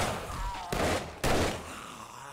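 Two loud gunshot bursts from the .44 Desert Vulture pistol in the game 7 Days to Die, each a sharp crack with a lingering tail over a steady background.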